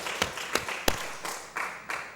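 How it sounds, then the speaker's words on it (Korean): A congregation at a Sunday morning service in a Korean church in Gyeongsan claps together in a steady unison rhythm, about three claps a second. The claps are fairly close and moderately loud, with no speech over them. "우리 은혜 베푸신 하나님께 감사와 영광의 박수 올려드립니다"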